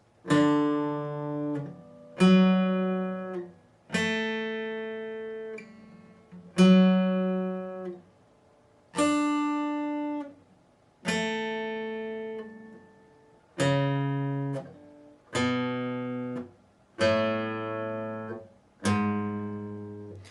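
Slow guitar notes and chords of a song's intro played one at a time, each ringing out and fading before the next, with short pauses between them.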